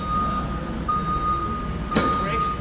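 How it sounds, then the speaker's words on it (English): A vehicle's backup alarm sounds a steady high tone over a low engine rumble, with a brief clunk near the end. "Now you can hear the backup alarm"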